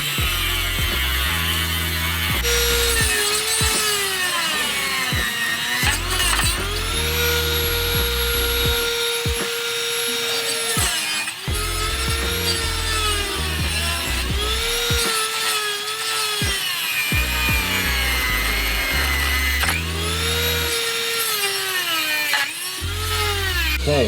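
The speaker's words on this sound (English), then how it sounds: "This whole lip right here needs to be cut off for our new timing gear" A cutting tool removes a metal lip for a new timing gear on an R32 GTR engine build, a loud continuous harsh grinding whine with repeated pitch dips as the blade bites and eases, running throughout.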